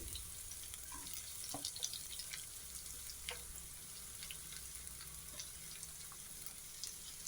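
Onions frying in hot oil with mustard seeds for a Kerala prawn curry, giving a faint, steady sizzle and hiss throughout with occasional light pops.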